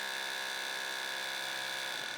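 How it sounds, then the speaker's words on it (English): A low-noise drill with a flat diamond-edged tip boring a hole, giving a steady continuous high whine with layered tones, close and constant throughout the short stretch. "This newly developed drill has a flat diamond-edged tip that is dramatically quieter."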